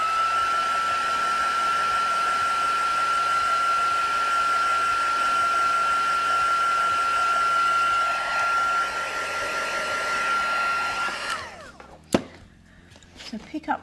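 A heat tool drying watercolour on a craft project gives a steady, loud whine with a high tone for about eleven seconds, then cuts off, followed by a few sharp knocks and handling noises.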